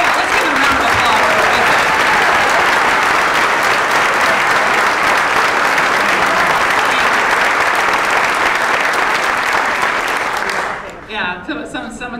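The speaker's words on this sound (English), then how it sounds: "let's give Him a round of applause" An audience at a political event at a club applauds loudly for about eleven seconds, a dense wash of clapping that fades quickly at the end, with some voices near the close.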